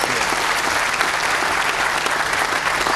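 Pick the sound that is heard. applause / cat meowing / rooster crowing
applause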